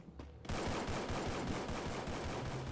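Gunfire in a squad-based shooter video game: a brief quieter lead-in, then loud, dense, continuous automatic fire with rapid rhythmic bursts that fill the rest of the moment, with no talking.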